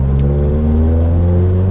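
A Mitsubishi Galant AMG engine hums at raised revs, around 4,000 RPM, with a steady, close drone and strong low harmonics, held briefly without talk.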